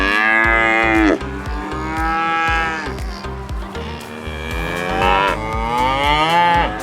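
Cattle at the Kent County agricultural show low loudly and close by, several long drawn-out moos following one another over a busy background.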